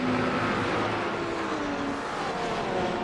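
GT3 race car engines in a racing video game at a wet Watkins Glen, a continuous roar of closely running cars with a rising and falling engine tone, loud and steady throughout.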